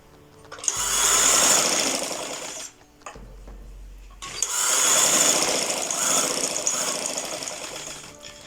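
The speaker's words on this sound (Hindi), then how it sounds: "ये एंड तक हम ऐसे ही सिलाई कर लेंगे।" Electric sewing machine stitching the neckline of a suit or kameez, running in two loud sustained bursts of rapid whirring stitches separated by a short pause, close by and without talk.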